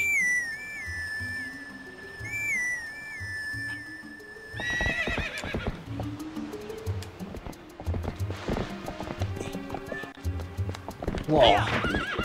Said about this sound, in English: I got to call my horse.